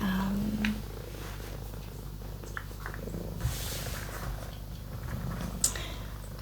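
Lucy, a pet cat, purrs in a steady, low, rumbling rhythm close to the microphone, continuous and fairly quiet with a few faint rustles.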